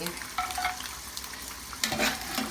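Soft, steady sizzling of goat meat sautéing in a pan, with occasional scraping and stirring sounds, close by and fairly quiet.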